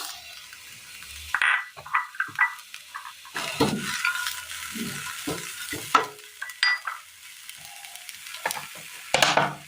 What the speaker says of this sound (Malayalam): അടുപ്പത്തൊരു പാൻ വെച്ച് കൊടുത്ത് അതിലേക്ക് നമുക്ക് ഈ ചീര അരിഞ്ഞതിട്ട് കൊടുക്കാം